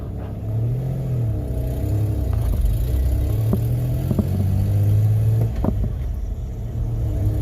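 A truck engine runs steadily while driving along slowly in second gear, a low rumbling drone that swells slightly as the throttle rises and falls, close and loud throughout with no voices.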